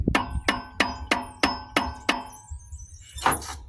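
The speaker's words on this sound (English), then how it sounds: "Let me see if I can just tap it off with the hammer" Seven sharp metallic hammer taps in a steady rhythm, each ringing briefly, followed by a softer scraping knock near the end.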